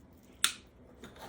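A single sharp snip of wire cutters or scissors through a wreath pick stem, close and crisp, followed by soft handling rustle in a quiet room.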